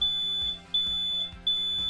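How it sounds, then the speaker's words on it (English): A household smoke detector sounds its alarm, a piercing high tone repeating in steady pulses of roughly half a second with short gaps, loud and close with no voices. "what to do when the smoke detector sounds"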